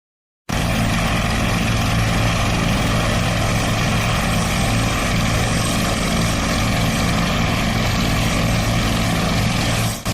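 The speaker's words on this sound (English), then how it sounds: "Moment of extraction in the helicopter of the wounded." A helicopter during an emergency air extraction of wounded National Guard members near the White House, its rotor and engine roar loud and steady throughout, with no talk.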